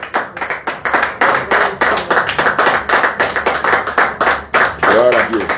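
Congregation in a church clapping together in a fast, steady rhythm, loud and close, with singing or voices blending underneath the continuous applause.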